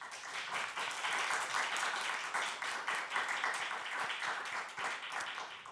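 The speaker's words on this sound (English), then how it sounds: "if we could get a round of applause for our great panel this evening" An evening audience gives a panel a round of applause at a Black History Month dialogue event, steady dense clapping lasting several seconds, fairly soft and distant.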